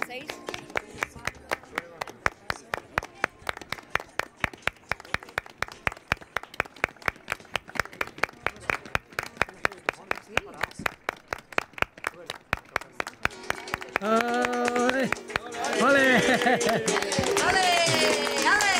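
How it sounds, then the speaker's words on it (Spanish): A group claps palmas in a fast, even flamenco rhythm for a dancer during a Castilla y León television show. Sharp, regular claps run throughout, and voices and sung or tonal sounds rise over them toward the end. "Venga, damos todos palmas, no solo nosotros."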